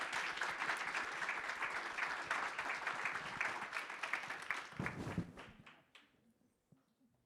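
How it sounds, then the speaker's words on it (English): Audience applause for the panelists at a water-access panel event, steady dense clapping from a crowd that fades out toward the end. "let's have a round of applause and a thank you for our incredible panelists."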